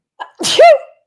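A single close, loud sneeze with a short intake of breath before it, in a quiet room.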